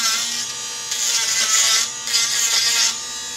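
Dremel rotary tool sanding away marker lines on a homemade overlay for a modded Arcade1Up control panel, giving a loud, close, high-pitched whir that swells and eases in a few passes with no talking.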